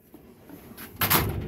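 Metal drawer of a 72-inch US General Series 3 tool storage chest sliding along its track, a quiet rumble building into a louder rolling slide near the end.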